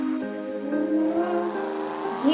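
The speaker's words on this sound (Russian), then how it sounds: "Едем на машине, да." Car engine in a deer hunting video game, a steady droning motor that rises and falls in pitch as the vehicle accelerates and shifts, fairly close and alone with no talking.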